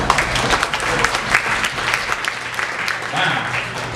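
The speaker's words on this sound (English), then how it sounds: "By show of applause here, who's married?" An audience at a comedy club claps steadily for a few seconds, with scattered voices mixed into the applause.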